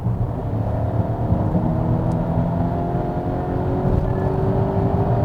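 Volvo XC90 B6 four-cylinder engine accelerating under deep throttle, a steady low rumbling whir heard from inside the cabin as revs climb gradually, continuous and moderately loud without voices.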